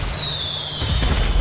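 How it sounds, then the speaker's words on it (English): Fireworks in the GTA Online video game, heard at a car show: high whistling rockets streak upward, followed by a loud, crackling burst of explosions. "Fireworks! Fireworks galore."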